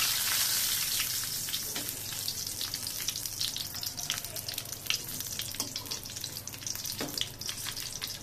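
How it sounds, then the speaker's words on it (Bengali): Singaras stuffed with potato and papaya curry fry in hot oil with a constant close sizzle, while a utensil stirs them and produces scattered clinks and splashes. "বারবার নাড়াচাড়া করে ভেজে নিতে হবে।"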